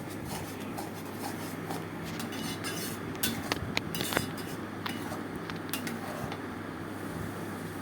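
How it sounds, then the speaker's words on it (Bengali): Masala stir-fried in a pan with prawn head paste, giving a steady sizzling hiss with scattered scraping and clicking from stirring, with no talking. "এর মধ্যেই আমি মশলাটাকে পুরো কষিয়ে নেব।"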